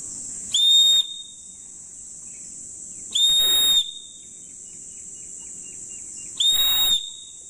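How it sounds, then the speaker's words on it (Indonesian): A survival whistle sounds three evenly spaced shrill blasts, each lasting about half a second with long silent gaps between, signalling the international distress code. "Itu international distress code untuk whistle atau peluit."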